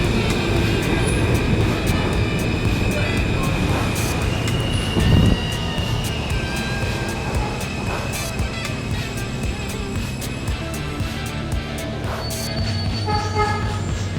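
A New York subway E train passes through Jamaica with a sustained roar of wheels and motors, joined by brief tonal horn-like blasts and screeching over steady rumble.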